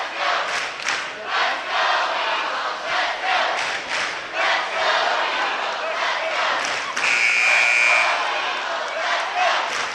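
A home crowd at a 1A boys high school basketball championship game stands and chants for their unbeaten team. The dense, loud roar of voices rises and falls in waves, with a buzzer or whistle-like tone cutting through partway.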